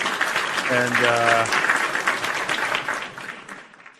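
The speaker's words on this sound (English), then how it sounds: "Round of applause to the PWT universe." A live podcast show audience bursts into loud applause that swells and gradually tapers over a few seconds, with a voice speaking over the clapping.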